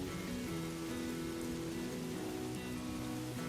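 Steady rain falls in a continuous broadband hiss, with a faint low tonal hum running underneath throughout.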